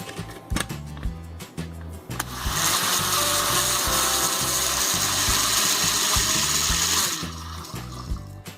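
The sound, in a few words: mixer grinder grinding mango and mustard for pachadi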